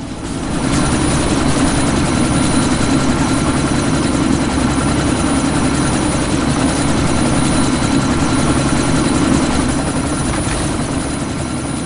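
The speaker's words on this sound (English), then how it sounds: "That chopper's about to take off!" A video game helicopter lifting off roars loud and steady for twelve seconds, its rotor chop and engine drone constant and close, with no speech.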